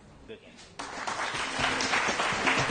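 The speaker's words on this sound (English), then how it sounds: "Let's keep it up for that round of applause for these excellent past champions." Studio audience at a quiz quarter-final applauds the teams, starting faint then swelling into a sustained, fairly quiet wash of clapping after a brief murmur.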